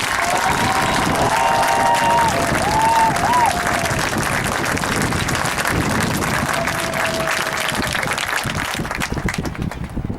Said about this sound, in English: can we give it up for these folks?